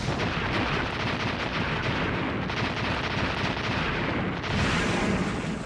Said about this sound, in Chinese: X6 还有一个我超级喜欢的改变，就是这个很吵的爆炸声